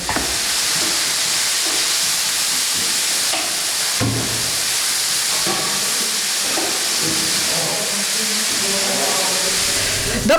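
Diced bacon and onion frying together in a pan, giving a loud, continuous sizzle and hiss with occasional stirring.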